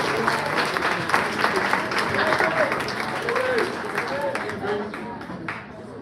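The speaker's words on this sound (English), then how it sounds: "And our MVP couldn't make it, Isaiah Jones, so we can give him a round of applause." A crowd claps steadily through a school sports awards dinner, with dense applause holding for about six seconds as voices murmur underneath.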